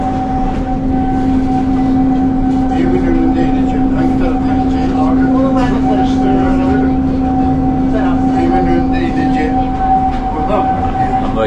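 A steady, loud rumble from inside a moving train travelling from Turkey to Greece, with a constant mechanical hum and faint rattling throughout, and voices murmuring over it.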